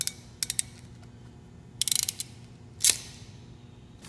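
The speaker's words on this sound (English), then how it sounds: "Then we'll go ahead and crimp it down." A crimping tool clicks and ratchets as it squeezes a wire into a fusible tap connector, giving short bursts of sharp mechanical clicks followed by a louder squeeze, close up with no talking.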